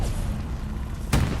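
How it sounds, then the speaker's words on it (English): A hand grenade bursts against a Sherman tank in the World War II shooter Hell Let Loose, one sudden deep boom near the end of the clip over steady battlefield rumble. "Throws a grenade at the Sherman."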